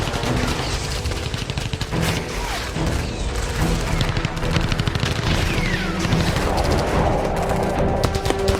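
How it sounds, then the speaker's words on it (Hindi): Dense bursts of gunfire crackle in a dramatized audiobook scene of armed terrorists at a ship, rapid overlapping shots and booms sustained loudly across the whole stretch with no speech. "सबको बाहर निकालते समय एक गोली चली"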